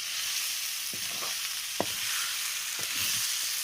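Chicken meat fries in a pot, a steady close sizzle with a few sharp pops and spatters over the hiss, and no talking.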